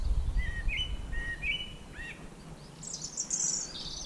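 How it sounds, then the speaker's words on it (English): Birds sing and chirp in short whistled phrases through a misty early-morning woodland walk, moderately near, with a brighter burst of song toward the end over a low outdoor rumble. "Oh dear, those birds."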